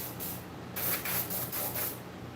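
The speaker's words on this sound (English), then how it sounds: "Then you got to spray them again." Spray from a can misted onto the teeth of a werewolf figure in a workshop, a series of short hissing bursts in a quick run of four or five, soft and close.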